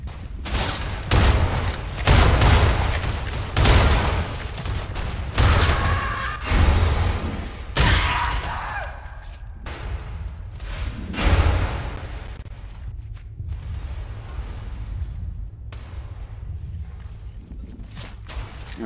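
Pistol and other gunfire in the Roblox game Grave/Digger, loud repeated bursts and booming shots clustered in the first half, then thinning to scattered softer pops, with talk mixed in.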